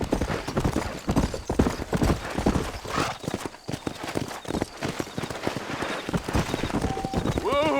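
Hooves clip-clop rapidly in a galloping rhythm in the Red Dead Redemption video game, a steady close pounding with a horse whinny near the end and voices talking over the riding.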